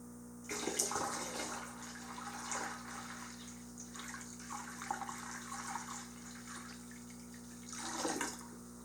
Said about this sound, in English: Watch that water line increase as I pour water in.